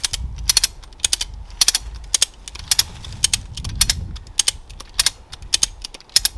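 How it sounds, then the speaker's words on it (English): Ratchet strap tensioned on a Tentsile Safari Trillium XL giant tree hammock: a series of sharp, close mechanical clicks in irregular bursts over a low rustling background. "use the handle to start using the mechanical advantage of the ratchet"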